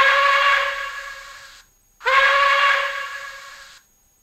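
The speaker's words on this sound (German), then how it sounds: "F2 Dampfpfeife kurz." A PIKO BR 82 N-scale model steam locomotive gives a short steam whistle sound, two loud, near identical hissy whistle blasts with a brief gap between them.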